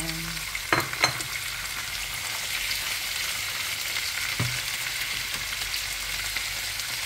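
Squid sizzles steadily in a pan with garlic, onion and ginger, a loud continuous hiss broken by a couple of sharp utensil clatters early on and one more midway.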